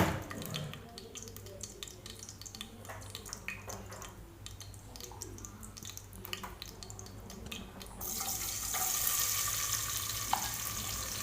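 Whole spices fry in oil in a pan: a bay leaf, a clove, two small pieces of cinnamon and a cardamom pod. A soft, continuous sizzle with light crackles stays close, then grows brighter and louder near the end.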